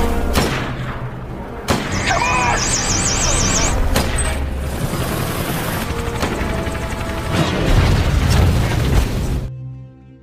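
A loud, dense cinematic crash as a helicopter hits a building, with booming explosions and bursts layered over music and effects, ending abruptly.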